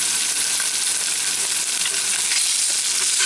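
Australian Darling Downs wagyu beef rib meat seared with a torch gives off a steady, close hiss and crackle of sizzling, with no one talking.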